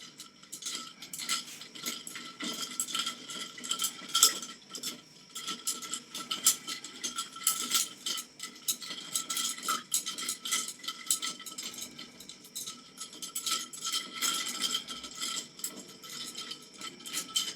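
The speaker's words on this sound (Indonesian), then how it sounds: "Kita mulai aduk dengan perlahan-lahan agar bongkahan es mencair." Ice chunks stirred slowly in a container during a melting experiment, giving a steady run of light clinks, scrapes and rattles close by with no talk.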